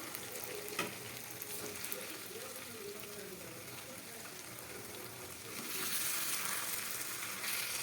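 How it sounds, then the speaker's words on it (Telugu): Andhra-style stuffed baby eggplant curry fries in a pan with a continuous crackling sizzle and occasional gentle spatula touches as it is slowly stirred; the sizzle grows louder toward the end. "మళ్ళీ గుత్తి వంకాయ వంకాయలు చీలిపోతాయని నేను నెమ్మది కలుపుతున్నానండి."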